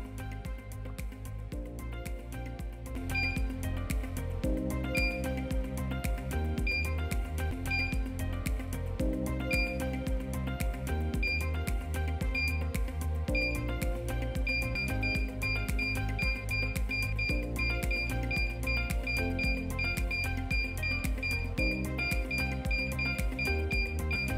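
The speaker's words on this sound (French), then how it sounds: "le son de l'appareil s'accélérera pour confirmer la présence exacte de la cible sous l'appareil" A Deep Seeker gold metal detector emits a steady stream of fast, repeating electronic beeps over a continuous tonal drone, loud and constant throughout without any talk.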